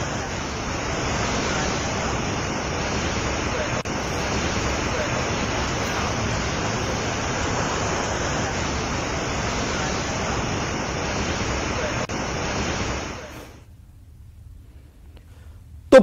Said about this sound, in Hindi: बारिश के होते ही झरना आकर्षण का केंद्र बना हुआ है।